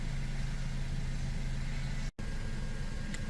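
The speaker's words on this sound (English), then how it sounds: "leave the vehicle idling for at least 5 minutes in park or neutral" A Mazda 3 engine idles in park, a steady low hum at moderate level, broken by a brief dropout of silence just after two seconds.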